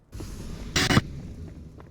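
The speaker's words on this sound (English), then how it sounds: "Flashbang." A flashbang grenade detonates in a video game, a short sharp burst standing out for a fraction of a second over a low background rumble, with no talk during it.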